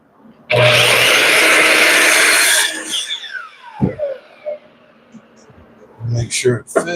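A power saw rips through two-by-four lumber on a carpentry bench, a loud close buzzing cut of about two seconds followed by the blade winding down, with wood knocks and handling afterward.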